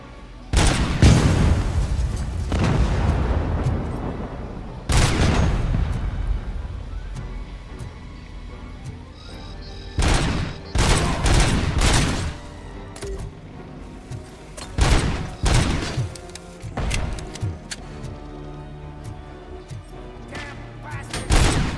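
Gunfire in the RoboCop: Rogue City video game comes as repeated loud, close bursts of rapid shots and booms, separated by quieter gaps with faint ambient game sound.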